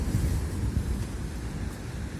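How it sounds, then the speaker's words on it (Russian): Sea surf rolling onto the coast near Mersin, Turkey on a cloudy February day, a steady low roar of waves mixed with gusty wind buffeting the microphone, no voices. "А волна какая сегодня гуляет."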